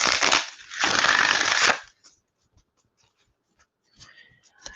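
A burst of papery riffling and flapping playing cards being shuffled, then a second longer run, followed by near silence with a few faint taps and soft rustles.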